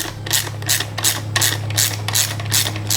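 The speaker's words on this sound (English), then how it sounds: "An electric ratchet makes life way easier for this" An electric ratchet loosens the starter bolts on a Pontiac V8, giving a rapid run of close, loud, sharp clicking bursts, about a dozen in quick rhythm, over a steady low motor hum.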